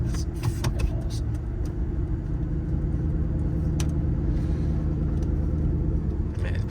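Hyundai Genesis 5.0 car accelerating hard on the road, a loud, steady low engine roar sustained throughout with constant rumble and no letup.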